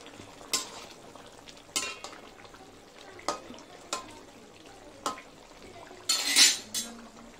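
A spoon stirs whisked sour yogurt into simmering fish curry gravy in a pan, with a few sharp scraping clinks against the metal and a louder burst of clattering stirring near the end.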